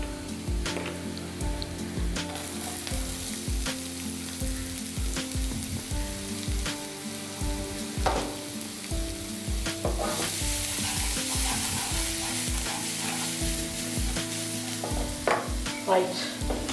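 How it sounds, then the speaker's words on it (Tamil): Onions roasting in oil in a kitchen pan, a continuous bright sizzle with frequent scraping clinks from a stirring spoon, close and steady, with faint background music. "ரைட், ஆனியன் நல்லா ரோஸ்ட் ஆகட்டும்."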